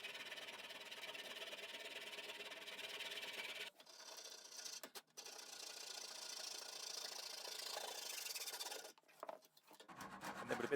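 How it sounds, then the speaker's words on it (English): A coping saw cuts waste from wooden moulding with a steady, fast rasping of back-and-forth strokes, pausing briefly a few times before resuming, with no voices present. "Best tool for that is a coping saw."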